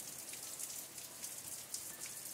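Light rain easing off outdoors, soft scattered drops pattering on a surface, quiet and even with no voices.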